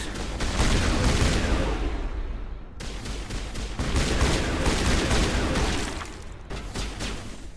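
Sustained gunfire in the Mass Effect video game, dense rattling bursts that run almost without a break, with booming impacts and short pauses between volleys, loud and close.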